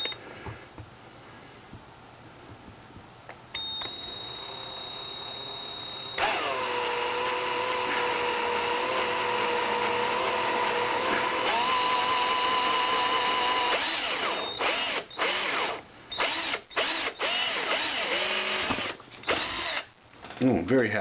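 A power drill bores a hole in the stock of a Norinco M14 clone target rifle, close and loud, with steady whirring runs that rise in pitch, then short stop-start bursts, and someone speaking in places.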